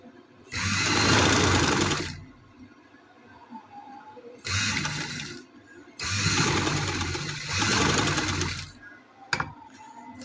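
A sewing machine stitches boutique-style piping onto fabric in three loud, close bursts of rapid mechanical whirring, separated by brief pauses, with no talk.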